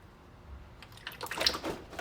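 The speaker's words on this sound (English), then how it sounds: "be prepared because a lot of fluid is about to pour out into your drain pan" Differential fluid from a Toyota Tacoma, 4Runner or FJ Cruiser starts pouring out of the drain plug hole into a drain pan: quiet at first, then a splattering liquid stream rises and spatters close by.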